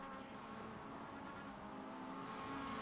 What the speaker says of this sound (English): Bouncing off the rev limiter as they go into the S's